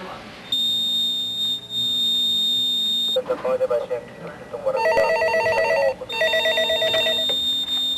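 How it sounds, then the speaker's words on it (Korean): A telephone ringing on an automatic fire alarm system that calls out when a fire is detected: loud electronic ringing in repeated bursts with short gaps, a warbling ring tone cycling under steady tones. "불이 났을 때 자동 센서가 작동해 전화로 화재를 알려주는 첨단 경보 시스템"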